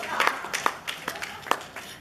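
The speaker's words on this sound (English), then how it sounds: "let's give Tony another round of applause" Wedding guests applaud, a light scattered round of clapping from a small crowd, with a few claps standing out sharply and voices mixed in.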